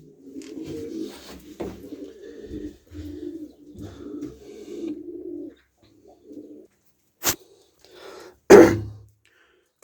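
Pigeons in a loft with their young give low, repeated coos in soft rolling phrases, close by. The cooing fades near the end before a couple of sharp knocks or coughs.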